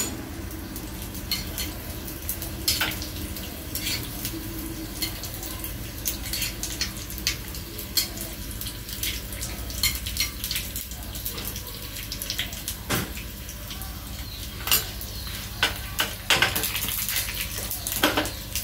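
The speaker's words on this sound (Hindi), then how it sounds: "अब इसमें ये मैं राई और करी लीव्स का तड़का लगाऊंगी।" Mustard seeds and curry leaves crackle and sizzle in hot oil for a suji appe tempering, a steady, close hiss dotted with sharp pops and splutters.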